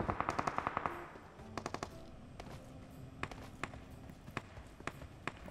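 Rapid SMG bursts in PUBG Mobile rattle out in a quick opening volley, followed by scattered single shots and short clusters of gunfire over faint game ambience.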